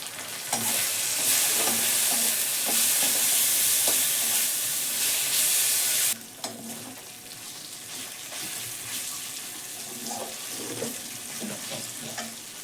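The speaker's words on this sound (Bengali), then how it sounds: "রসুন দিলাম এক চামচ হলুদ দিলাম এবার মশলাটা ভেজে আমি ডালটা ঢেলে দেবো" Spice paste with garlic and turmeric frying in a pan makes a loud, bright sizzle that cuts off abruptly halfway, then continues as a softer crackle with repeated close scraping of a stirring spoon.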